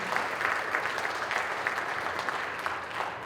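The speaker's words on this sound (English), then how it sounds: "let's give a quick round of applause for Tiffany." A crowd at an MLK Day gathering gives a brief round of applause, a steady, moderately distant wash of many hands clapping without voices above it.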